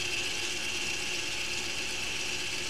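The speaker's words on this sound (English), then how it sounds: "this little motor here is spinning back out, and that will allow the pads then to be changed when we need to" The electronic park brake motor on the rear brake of an Audi Q5 retracts with a steady mechanical whir and gear grind, running continuously at close range.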